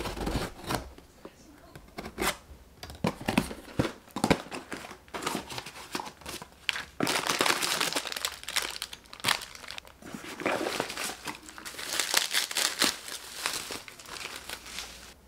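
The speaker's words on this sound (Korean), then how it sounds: "큐어 되는 동안 방금 온 택배 뜯어볼게요" A delivery parcel being torn and unwrapped by hand, with bursts of crinkling plastic and ripping packaging close up, uneven and irregular over about fifteen seconds.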